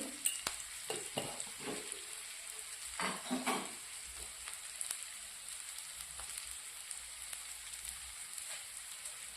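Chilli powder and garam masala sautéing in a hot pan with salt for a giant passion fruit stir-fry, a steady close sizzle and crackle broken by the scrape and clatter of a stirring spoon, with no voices.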